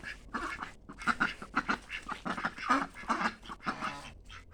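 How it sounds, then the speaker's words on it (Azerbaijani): Ducks on a farm give off a busy run of close, overlapping quacks and honks that keep going in choppy bursts, with no one talking. "Ördəyə baxın. Ördəklər də gəzir."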